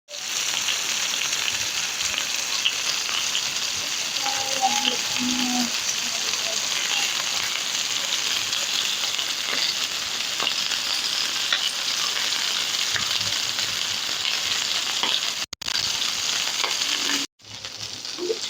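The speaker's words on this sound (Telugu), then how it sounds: "మీడియం ఫ్లేమ్లో పెట్టేసి కనుక బాగా ఫ్రై చేసుకుంటే చాలా టేస్టీగా ఉండిద్దండి." Tandoori pieces sizzle and fry steadily in oil over a medium flame, a loud continuous crackling hiss with brief stirring touches, without pause.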